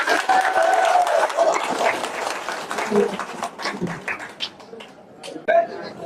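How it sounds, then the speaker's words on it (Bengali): An audience claps to congratulate a newly elected MP at a party gathering. Loud, dense applause opens the moment, then thins into scattered claps with a few murmuring voices as it fades. "সেজন্য আমি আপনাদের সকলকে করতালির মাধ্যমে অভিনন্দন জানাচ্ছি"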